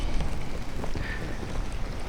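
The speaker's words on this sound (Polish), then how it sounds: "Trochę dzisiaj wiatr wieje" Wind blowing through an outdoor spring garden, a steady broadband rush with gusty swells that buffets the microphone continuously and fairly loudly, with no speech over it.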